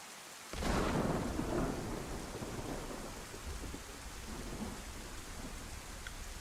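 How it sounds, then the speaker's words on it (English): A rainstorm with thunder in the DayZ survival game on the Chernarus map: a low rolling thunder rumble opens over steady, dense rain that keeps pattering on surfaces throughout, with no voices. "Gotta wait for this rainstorm to stop."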